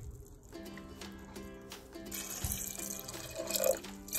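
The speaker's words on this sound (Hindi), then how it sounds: "और थोड़ा पानी और डाल देंगे," Water pours into a pressure cooker holding soaked red kidney beans on a gas stove, a steady splashing trickle close by that swells and grows louder toward the end, with no talk.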